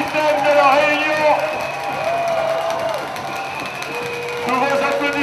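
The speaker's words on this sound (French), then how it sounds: "Tous vos applaudissements, mesdames, messieurs" Crowd applause and cheering at the Coupe de l'Outre-mer 2012 football final between Martinique and Réunion, rising as the Réunion captain lifts the cup, sustained clapping with whoops under a loud announcer's voice.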